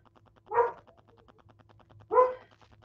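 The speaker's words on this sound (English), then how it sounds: "of course he's got a bark" A dog barks twice, a few seconds apart. The barks are faint and sound distant against a quiet background, with no voices.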